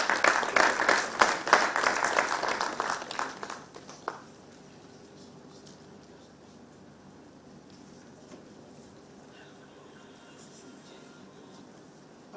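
Applause from the audience at a national conference on farmer-herder relations in Nigeria, dense and loud for about four seconds, then stopping abruptly into quiet room tone with faint scattered noises.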